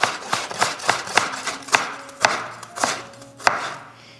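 Knife chopping carrots thinly on a board for Sri Lankan carrot sambol, a steady run of about a dozen sharp, close cuts at an even rhythm, with no talk over them.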